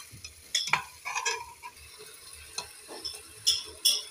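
Vegetables and rice stirred and fried in a home kitchen pan give intermittent scraping and clinking knocks over a quiet, faint sizzle, with a few sharper spoon strikes spaced irregularly.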